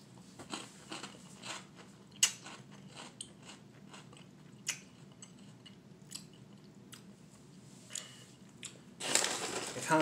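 Crunchy cereal is chewed close to the microphone in irregular crisp bites and softer crunches, with a louder burst of crunching near the end and no talk.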